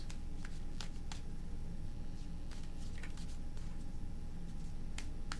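Tarot cards shuffled by hand, a scattering of short crisp snaps and riffles over a steady low background hum, quiet and close, with no talk.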